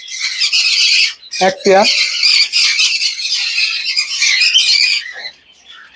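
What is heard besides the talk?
cinnamon Japanese budgies squawking in a breeding cage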